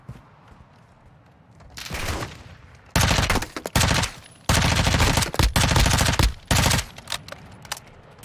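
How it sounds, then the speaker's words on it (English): Automatic gunfire in the Warzone 2 DMZ video game, loud sustained bursts of rapid shots with brief pauses between them, after a quieter opening stretch. "Taking effective fire."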